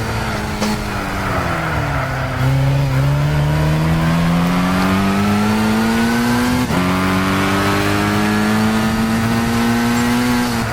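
Race car engine in Gran Turismo 6 climbing through the gears, a loud sustained whine that rises steadily, drops sharply at a shift near 2.5 seconds and again near 6.7 seconds, then keeps building, with no talk over it.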